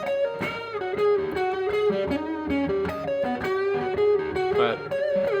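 Overdriven electric guitar, a Squier Paranormal Cabronita Thinline Telecaster through a Tube Screamer pedal into a Fender reverb amp, playing a chord-based riff, warm and gritty with sustained notes, loud and steady with no voices.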